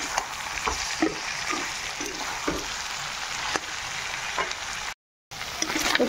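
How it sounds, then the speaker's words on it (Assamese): Duck meat frying in hot oil in a home kitchen pan, a steady dense sizzle with occasional sharp pops and crackles and brief stirring sounds, continuous and fairly close throughout. "এইফালে মোৰ মাংসখিনি ভাজি লোৱা হৈ গ'ল"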